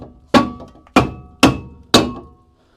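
A rubber mallet strikes the brake disc of a Smart 453 during a disc and pad change, four loud, evenly spaced thuds that ring briefly, each fading before the next, with no talk.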